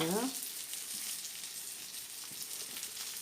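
Pan börek, a Turkish pan-cooked pastry, fries steadily in a pan as its bottom browns, giving a continuous hissing sizzle throughout, with a brief harmonic sound at the very start and no talk.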